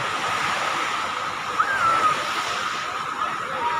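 Sea surf rolls at Marina beach in a broad steady wash of water noise, with faint talk and a brief high squeak partway through.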